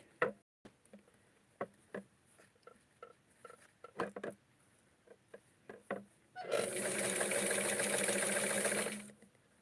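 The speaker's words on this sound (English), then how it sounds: "I'm going to hem it with the sewing machine" A few scattered taps and clicks, then a sewing machine hemming a fabric wrap skirt whirs steadily and loudly for a few seconds before stopping.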